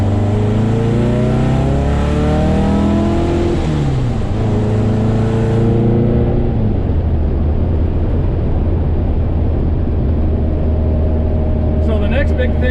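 Engine of a car rolling slowly along a road at low speed, a close steady drone with rising and falling gear tones and constant road and cabin rumble.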